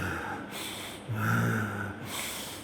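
A voice imitates a heavy, angry snorting breath, with forceful rasping exhales rising and falling over a couple of seconds.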